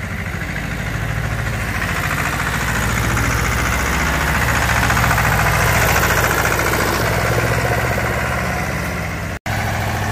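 An Antonio Carraro Tigrone 4x4 tractor with a 40-horsepower engine idles close by in a steady, loud, low rumble with a rhythmic diesel knock, unbroken and with no voices.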